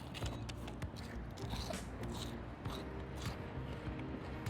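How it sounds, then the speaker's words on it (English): Quiet, close crunching bites into grass-fed tallow-fried fish and chips batter, several crisp crackles and chews in an irregular rhythm, with no talking. "Listen to the crunch."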